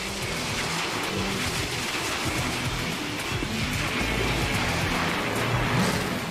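A race car revs and roars continuously as it weaves between cones on a slalom course, the engine note loud and close, rising and falling with each change of direction, with no talk.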